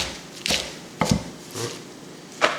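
A knife chopping through a gathered bunch of kale on a cutting board, four separate crisp cuts spaced unevenly, close and clear with no talk.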